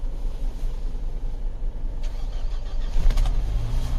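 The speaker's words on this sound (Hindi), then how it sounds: "तो जी ये भी शुरू हो गई है, वो भी फर्स्ट क्रैंक में" A Mahindra Thar petrol engine cranks and catches on the first try in a cold winter setting, a brief starter whirr giving way to a low steady rumble over a constant background drone.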